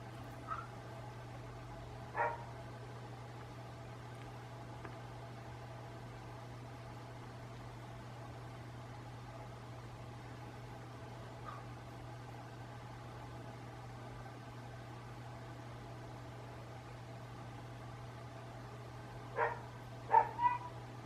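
A few faint, distant dog barks, spaced far apart with a cluster near the end, over a steady low electrical hum.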